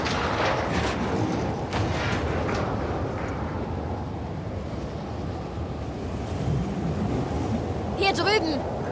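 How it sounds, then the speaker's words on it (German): Strong wind in the video game The Last of Us Part II roars steadily and loudly throughout, a dense gusting rush resembling surf, with a brief bird-like chirp near the end. "Ziemlich windig."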